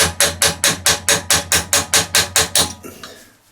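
A small hammer taps metal in a steady run of about a dozen sharp, evenly spaced strikes while assembling a 20-tonne hydraulic press, close and bright, then a faint rattle as it stops.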